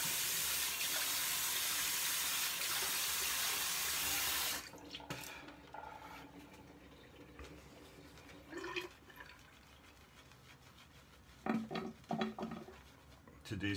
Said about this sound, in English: let's get a rinse